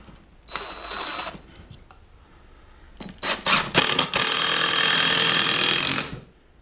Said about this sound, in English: And then I use a couple 3-inch screws to secure it in place.